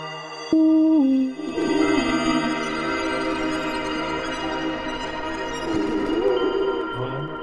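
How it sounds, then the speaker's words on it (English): Delay reverb effect applied in Csound on a mobile device: loud sustained tones ring out with long echoing, smeared tails that blend into a continuous wash. "Here's delay reverb."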